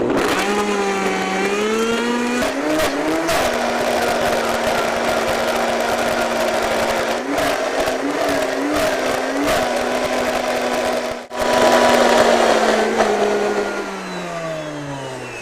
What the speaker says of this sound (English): just blend your ingredients until everything is a nice creamy texture